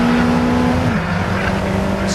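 Caterham race cars roar past on a circuit, a loud, sustained engine note with a sliding pitch as they go by at close range.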